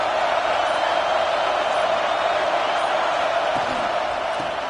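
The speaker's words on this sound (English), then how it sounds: "This crowd ready to make its presence known." A stadium crowd at a Penn State–Utah football game roars in a dense, sustained wash of cheering that holds steady throughout, broad and loud with no distinct single voices.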